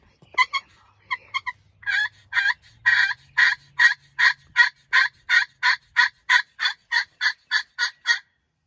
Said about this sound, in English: We don't know if he heads down now, but we keep hearing it gobble.